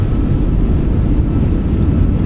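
Airliner in Microsoft Flight Simulator 2020 taking off from runway 01 left at Oslo Gardermoen, a steady, loud low-pitched engine roar that holds constant throughout with no voices.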